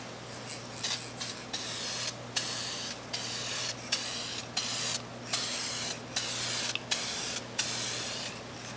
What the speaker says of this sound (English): use some duplicator clear coat for these. I'm going to do a fairly medium coat